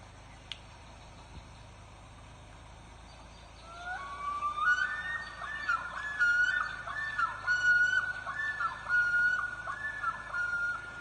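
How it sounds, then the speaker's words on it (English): A common loon in Wisconsin gives a wavering, tremolo-like call that starts after a few quiet seconds and carries on in repeated rising and falling phrases over a faint background hiss. "there are 5 species of loons in North America, but only one in Wisconsin, and it's called the common loon"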